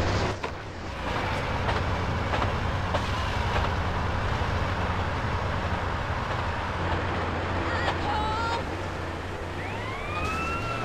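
A train rumbles past in the video game GTA San Andreas, a steady loud roar throughout, with a police siren wailing faintly near the end.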